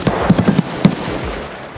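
Gunfire in the shooter game Escape From Tarkov, a quick run of sharp, close shots in an uneven burst, then a single louder crack, ringing over a steady background.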